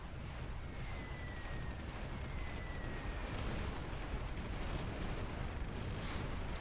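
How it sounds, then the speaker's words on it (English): Carpet bombing explosions in the strategy game Supreme Ruler 2020, a constant dense rumbling roar of overlapping blasts, quiet and distant in level, with no clear pauses. "Carpet bomb and invade."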